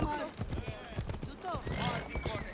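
Hooves of a horse, here a unicorn, clip-clop in a quick galloping rhythm during a ride in the video game Assassin's Creed Odyssey, with someone talking over it.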